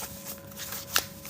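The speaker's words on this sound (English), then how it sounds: "These decks are the same size as my hands. That's why I have a hard time shuffling." Shuffling of an oversized tarot card deck gives a soft, papery riffling rustle that ends in one sharp snap of cards, quiet and close, with no talking.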